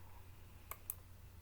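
Two quick, faint computer mouse clicks in close succession on a desk while working in Microsoft Word, over a quiet low hum.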